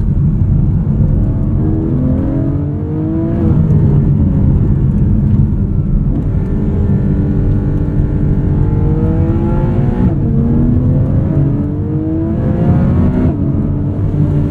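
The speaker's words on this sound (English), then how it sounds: "No piped in noise, no fake engine sounds, just induction and exhaust, and it's all just right over your right shoulder." Induction and exhaust of a 2024 Porsche 718 Cayman GTS 4.0 with PDK on winding hairpin roads, loud and close, rising and falling through repeated revs and gear changes with no talk.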